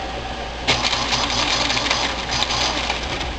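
Electric spice grinder whirring through allspice for homemade ketchup, a steady buzzing motor that kicks up louder about half a second in and runs on continuously, close by.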